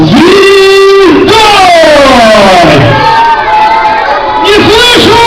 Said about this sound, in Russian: Вот так вы будете все время сегодня кричать, веселиться и отдыхать.